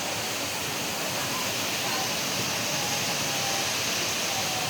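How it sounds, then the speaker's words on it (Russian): A waterfall pours with a dense, steady roaring hiss that stays even and loud for the whole stretch, with no break. "Тот же водопад."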